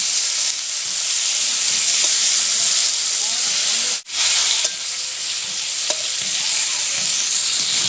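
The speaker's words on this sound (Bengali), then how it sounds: "পটলটা ভাজার সময় আমি একটু ঢাকনা দিয়ে ঢেকে দিলাম" Pointed gourd (potol) frying in oil under a lid in a pan gives a loud, steady sizzle and hiss that runs almost without a break, with a brief dip partway through.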